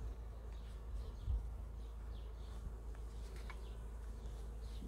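Honey bees buzz around an open Warré hive outdoors, a steady low hum of many insects with occasional nearer passes, continuous and moderately faint with no talk.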